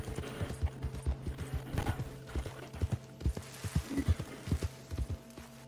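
Horse hooves clip-clop at a steady walking rhythm in Red Dead Redemption 2, a quiet run of even footfalls with no voices over them.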